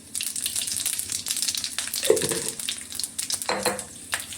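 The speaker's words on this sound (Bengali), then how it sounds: "তেলটা গরম হয়ে গেছে, এখানে আমি এখন দিয়ে দিচ্ছি অল্প পাঁচফোড়ন" Panch phoron spices crackle and sizzle in hot oil, a dense, busy, close-up spatter with a few louder pops and stirring scrapes. No one speaks.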